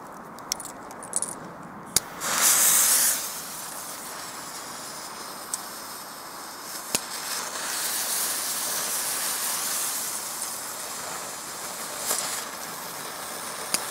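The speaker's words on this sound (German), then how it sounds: "Als nächstes Feuerwirbel." An older fire whirl firework, one of a batch of ten, hisses and sprays steadily at a middle distance outdoors, with a brief louder burst early on and scattered crackles throughout.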